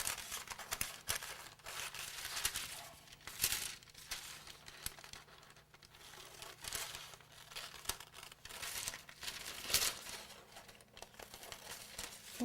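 Parchment paper being cut out into a pattern for cake decorating gives close, quiet crinkles and rustles, with short crisp snips and tearing scrapes recurring irregularly throughout.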